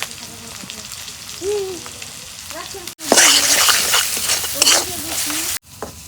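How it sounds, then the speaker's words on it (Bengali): Spices frying in oil in a pan, with a loud close sizzle that flares up sharply midway and stirring scrapes throughout, while a voice speaks faintly in the background. "মশলাগুলা এখন আমি তেল দিয়ে ভালো করে কষে নিই।"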